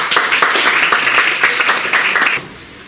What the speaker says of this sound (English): A great applause for Sofía Serrano Robledo, representing 4th